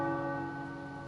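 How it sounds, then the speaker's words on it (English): Tower bells ring in a Marvel video game, a sustained metallic toll fading slowly with rich overtones, fairly faint and alone. "The tower bells are ringing."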